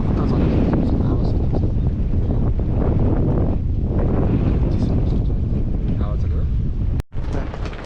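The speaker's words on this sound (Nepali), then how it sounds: "यतातिरबाट चाहिँ हावा खतरा चलिरहेको छ।" Fierce wind sweeping in from the hillside beside a hilltop Shiva temple, a loud continuous low roar battering the microphone, broken by one sharp thump near the end.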